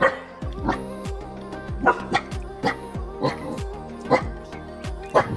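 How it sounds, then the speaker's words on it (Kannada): Two dogs kept at a house, a male and a female, bark in a repeated, steady series of sharp yaps at close range, with faint voices beneath. "ನಮ್ಮ ಮನೆಯ 2 ಕಿತಾಪತಿ ನಾಯಿಗಳಿದು, ಒಂದು ಗಂಡು ಒಂದು ಹೆಣ್ಣು."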